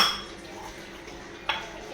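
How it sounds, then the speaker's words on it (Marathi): Dishes and tea cups being washed with water at home: a faint wash of running water and soft handling, with a single brighter clink of crockery near the end. "वेदिका घसते आता थोडीशी भांडी"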